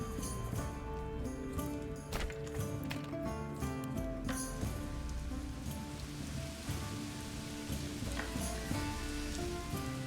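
Steady rain patters across a medieval village in the Manor Lords video game, a dense, even hiss with occasional clip-clopping hooves mixed in.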